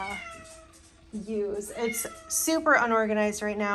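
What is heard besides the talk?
cat screaming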